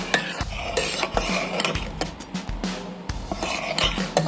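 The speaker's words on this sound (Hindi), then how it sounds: "दो मिनट तक उबालेंगे इसे अच्छे से" Wheat flour and ghee raab boiling in a pot while a spoon stirs it, with repeated scraping and clinking strokes against the pan over a steady bubbling sizzle, close and alone.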